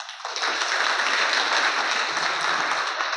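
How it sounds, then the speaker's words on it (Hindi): Audience at a college gathering breaks into applause: a dense, steady wash of many hands clapping at close range, swelling quickly after a brief start and holding loud and even to the end. "बाबूजी की बात से ताली बजाओ आप लोग"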